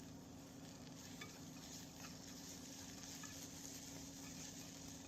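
Okra sizzles steadily in a pan as it is sautéed for a summer curry, a continuous close frying hiss with occasional stirring and no talk.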